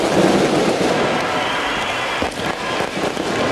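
Fireworks go off at Headingley stadium just before kick-off of a 1997 rugby league match between Leeds Rhinos and Adelaide Rams, a dense, continuous crackle and rumble of loud bursts with no pause.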